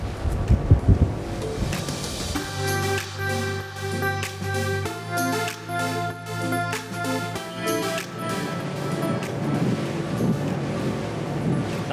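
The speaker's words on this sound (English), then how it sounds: "We're jumping a bit across the waves, but we're not hitting them." An ORYX 379 sport cruiser motor yacht runs fast across waves, its engine a steady loud drone with tonal bands that shift pitch as the hull jumps, wind and water rushing over the microphone throughout.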